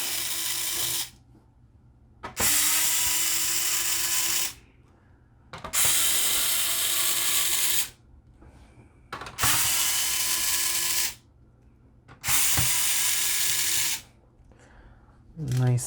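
A power screwdriver backs screws out of a PlayStation 3 Slim console in four loud whirring bursts of about two seconds each, rising in pitch as each screw frees, with quiet pauses between them.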